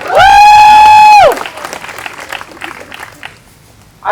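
An audience at a press event breaks into applause just after a loud sustained electronic feedback tone cuts off, with the clapping dense at first, then thinning out and fading.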